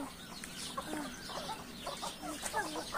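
Chickens and small chicks clucking and squabbling as they peck at scattered rice, a busy flock of short overlapping calls at close to moderate range, with no talk.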